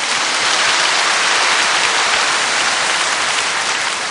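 A dense, continuous wash of clapping from a large church congregation during a sermon, loud and even throughout with no pauses.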